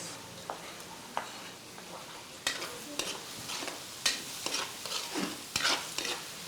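Onions sizzling as they fry in hot oil, with scattered stirring scrapes and clicks of a utensil over a soft, fairly quiet crackle, no voices.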